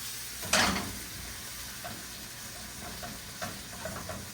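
Eggs mixed with cottage cheese sizzle and fry in a pan, a steady low crackle with a louder burst early on and occasional soft scrapes and clinks of a utensil.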